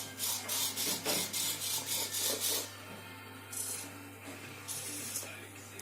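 A robot vacuum cleaner turns in place with a steady low motor hum under rhythmic brushing and scraping pulses, which ease into a quieter whir partway through.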